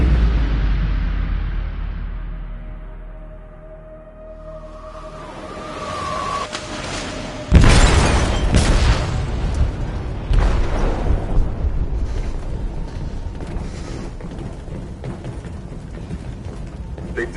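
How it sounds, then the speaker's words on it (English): In the game Detroit: Become Human, an explosive detonates in a ship's hold. After a low rumbling lead-in comes a sudden loud blast, then a sustained roaring, crackling rumble of destruction that continues to the end. "They detonated an explosive in the hold"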